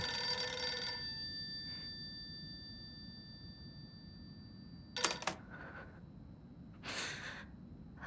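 A telephone rings in the horror video game Silent Hill f, opening with a bright, shrill bell burst that cuts off after about a second, followed by quieter scattered ringing and clattering bursts against a low, dark background hum.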